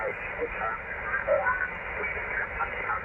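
High-pitched interference heard on the 80-meter amateur band through a Yaesu FTX-1 transceiver: band-limited hiss and static with warbling whistles and tones drifting across it, steady and fairly loud.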